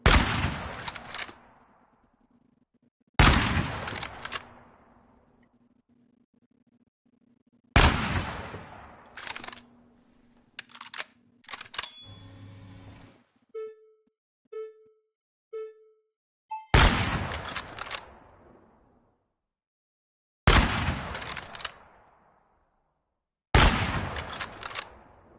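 Gunshots from a gun being test-fired in the video game Gunsmith Simulator: sharp, loud single blasts spaced a few seconds apart, each fading with a short tail, with a run of soft electronic blips in the middle.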